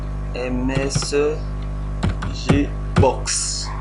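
Clicks of a computer keyboard as a search term is typed, short bursts of key taps beneath someone speaking French over a steady electrical hum.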